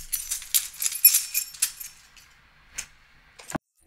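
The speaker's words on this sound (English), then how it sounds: "and then let's do the keys." A bunch of keys jangling and rattling for about two seconds, followed by a couple of faint clinks, then quiet.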